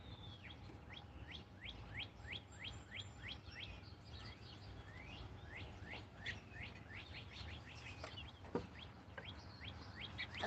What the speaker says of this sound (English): there's a bird tiptoeing on the roof here.